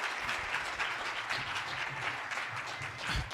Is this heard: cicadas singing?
no